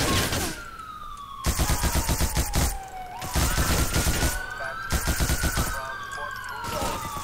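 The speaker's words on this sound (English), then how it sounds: "we're about to get shot at" Gunfire in GTA IV during a police patrol, with repeated bursts of rapid shots cutting through a wailing police siren that sweeps across the scene, loud and close throughout.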